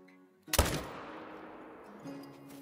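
A 300 AR Magnum rifle fires a single loud shot while hunting in Call of the Wild, followed by a long rolling echo that fades over a couple of seconds.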